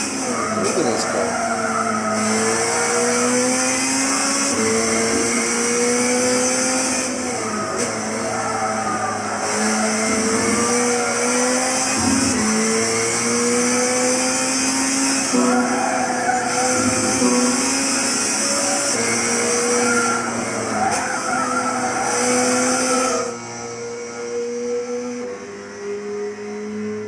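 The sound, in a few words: Subaru Impreza touring car racing on Nordschleife, Gran Turismo 6 video game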